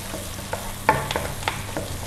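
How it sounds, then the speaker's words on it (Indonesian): Onion and garlic are sautéed in hot oil while being stirred in a pan, giving a steady close sizzle with a few light scrapes and taps, with no talk. "Udah panas, masukin bawang-bawangnya ya. Bawang bombay, bawang putih ya, masukin. Nah ini kita tumis dulu"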